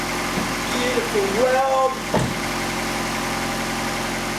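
A car engine with a freshly repaired exhaust manifold idles with a steady, even mid-pitched hum and light vibration, while someone briefly speaks over it close by.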